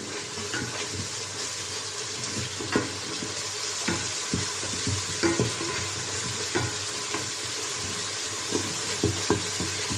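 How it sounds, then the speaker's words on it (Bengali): Beef masala sizzling and frying in a pan, a steady loud hiss with soft stirring scrapes and clicks throughout, no voices. "মশলাটা কষানো হয়েছে"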